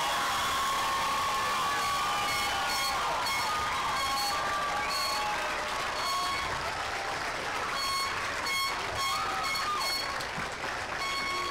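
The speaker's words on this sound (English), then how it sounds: "Let's give them another round of applause" A large commencement crowd at the University of Hawaii West Oahu Fall 2012 ceremony gives the graduating class sustained applause with scattered cheers, a steady roar of clapping that fills the whole stretch without a break.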